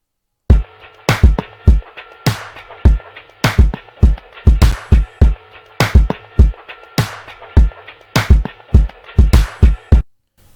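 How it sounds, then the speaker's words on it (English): Hip hop drum groove at 102 BPM, punchy kicks and snares repeating in a steady swung pattern for about ten seconds, loud and alone with no voices. "So these drums are giving me that groove that is very similar to the one in the song"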